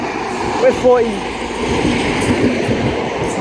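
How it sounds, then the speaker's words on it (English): A Great Western Railway service from London Paddington to Penzance pulls into Reading station with a steady, moderately loud rumble and a brief squeal of brakes early on, while someone speaks quietly over it. "arriving in now is going to be the 1435 Great Western Railway service to Penzance from London Paddington"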